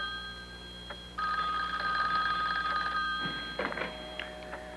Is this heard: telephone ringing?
yes